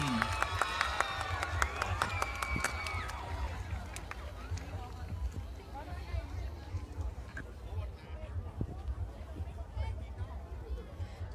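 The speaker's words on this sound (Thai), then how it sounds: "ขอเสียงปรบมือให้กับน้องๆจากโรงเรียนแม่เจดีย์วิทยาค" Crowd applause and cheering at the opening ceremony of a Thai student marching band contest for students of Mae Chedi Witthayakhom School, dense clapping across a large outdoor audience that stays steady and fades slightly toward the end.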